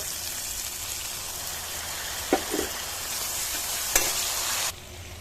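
Dried chilli, bay leaf, cumin and spice paste frying in oil in a kadai, a steady loud sizzle with a couple of brief stirring scrapes and clinks, cutting down abruptly near the end, no voices.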